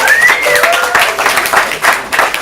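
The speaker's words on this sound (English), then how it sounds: "give yourselves a big round of applause" Comedy improv audience applauding and cheering in a theatre, a loud burst of clapping with a few whoops, close and continuous for a couple of seconds.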